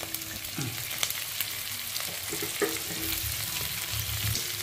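Chopped onions fry in a pan for seema chintakaya curry, a soft steady sizzle with occasional stirring clinks, fairly quiet and without talk.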